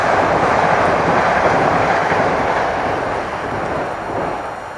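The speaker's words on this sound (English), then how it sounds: "That's a train." A loud, broad roar of a train passing close by in open countryside, steady and then easing slightly as it moves on.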